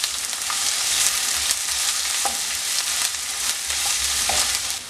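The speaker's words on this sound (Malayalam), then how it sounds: "ഇനി ചേർത്ത് കൊടുക്കുന്നത് ഓരോ ടേബിൾ സ്പൂൺ വീതം ഇഞ്ചിയും വെളുത്തുള്ളിയാണ്. അതൊന്ന് മൂപ്പിച്ചെടുക്കാം." Ginger and garlic sautéing in hot oil in a pan, a continuous close bright sizzle with occasional spoon stirs and scrapes, no voices.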